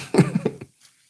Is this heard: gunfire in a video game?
no